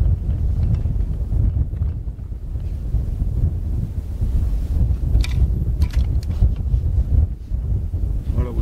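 Strong wind buffets the microphone at an outdoor long-range rifle shooting range, a steady loud low rumble with gusty surges throughout, and faint talk comes through briefly under the roar.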